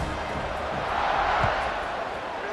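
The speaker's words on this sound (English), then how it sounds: "this crowd now ready to get behind them" A stadium crowd in the College Football 26 video game, during a Wyoming versus Hawaii match, makes a steady crowd roar that swells briefly midway and then settles back.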